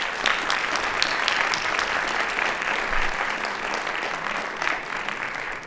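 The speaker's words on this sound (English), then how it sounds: "If we could give them a round of applause, please." Audience applause at a university panel event on religious perspectives on climate change: a sustained, dense round of clapping from the crowd, steady and fairly loud throughout.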